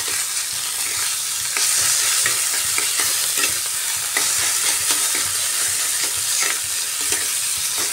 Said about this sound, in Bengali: এই পেস্টটা দিয়েও ভাজা ভাজা করে নিতে হবে।